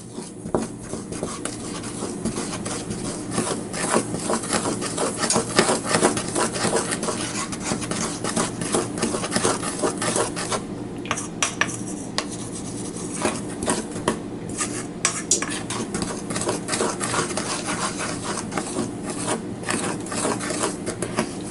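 A spoon stirs and scrapes honey muffin ingredients in a mixing bowl, a steady continuous rasping and rubbing that runs unbroken and fairly loud throughout, with no talk.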